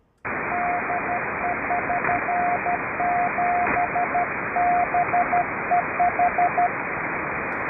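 Morse code CW tones beep in short and long dashes over a steady hiss of static on an amateur radio net, a clear repeating keyed tone.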